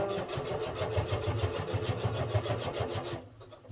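A sewing machine runs a regular stitch along a dress seam, a steady, rapid mechanical whir with even pulsing that stops abruptly just before the end.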